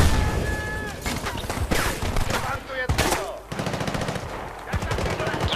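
AN-94 rifle in the video game Battlefield Bad Company 2, loud close bursts of rapid automatic fire in short clusters, mixed with other battlefield gunfire and someone talking over it.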